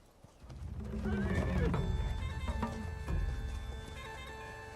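A horse whinnies loudly up close over the clip-clop of its hooves, followed by snorting and further clopping against a busy film soundtrack, with no speech.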